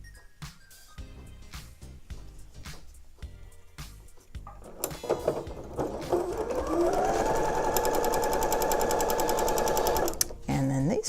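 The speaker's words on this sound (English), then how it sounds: "With a 1/4 inch seam, we're going to sew these two pieces right sides together." A sewing machine stitching a quarter-inch seam through quilt pieces, a steady, fast mechanical whirring that starts after a few handling clicks and speech, then runs continuously near and loud.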